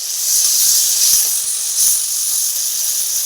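Ridge gourd frying in a pan, a steady loud hiss and sizzle that runs through the whole stretch with faint pops, no voice over it.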